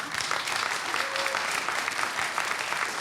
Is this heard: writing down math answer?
no